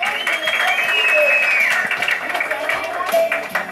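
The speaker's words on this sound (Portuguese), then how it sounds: "Uma salva de palmas," A crowd claps and cheers loudly throughout, with voices shouting over steady applause.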